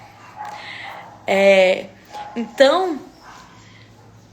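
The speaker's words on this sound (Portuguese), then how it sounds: "tem um bando de cachorro aqui" A group of dogs nearby lets out two loud, tonal barking or yelping bursts, a longer one followed by a shorter one, over quiet room background, with someone speaking briefly.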